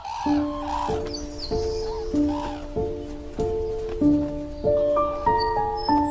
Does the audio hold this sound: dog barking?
no